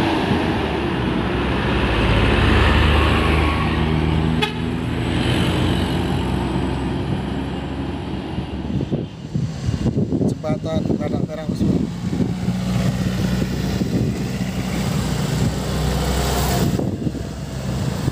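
Four-wheeled car passes on the road near the Gladak Merah bridge on the Malang–Lumajang route, a broad engine and tyre rumble that swells then fades, with someone talking over it and outdoor wind noise.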